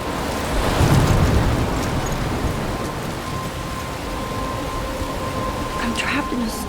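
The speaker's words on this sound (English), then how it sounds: "I'm trapped in a storm?" A storm in the Life Is Strange video game, with loud rain and a deep rolling rumble of thunder that swells early and then settles into a steady downpour, joined by a few faint tonal sounds near the end.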